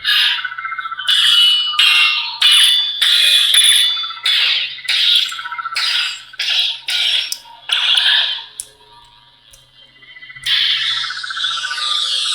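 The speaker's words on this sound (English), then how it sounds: "Not very easy to see blade lock up on a white blade, but you can hear it." Bursts of harsh, crackling buzz from a Neopixel lightsaber's blade lock-up effect stutter in quick irregular pulses, pausing briefly before a final sustained sizzling burst, loud and close with no talking.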